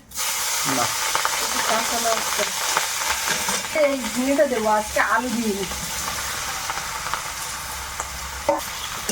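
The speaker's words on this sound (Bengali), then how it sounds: "তেলে একটু কালো জিরে দেবো কালো জিরে দিলাম" Black cumin seeds hit hot oil and sizzle steadily, close and loud, while a voice speaks briefly in the middle over the frying hiss.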